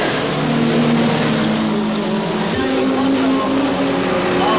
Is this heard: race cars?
yes